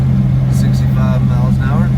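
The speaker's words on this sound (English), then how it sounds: "transmission in this thing is pretty loud" A Pontiac cruises along with a loud transmission and rear end, giving a steady low droning hum inside the cabin while a voice talks over it briefly.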